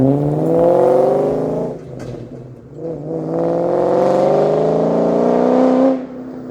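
A Ford SVT Cobra, smoking heavily, revs up and down in two rising and falling engine sweeps, loud and close with a whirring tone.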